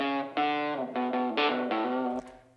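Telecaster electric guitar with effects rings out a short phrase of about five sustained, slightly distorted notes, clear and alone, tapering off at the end.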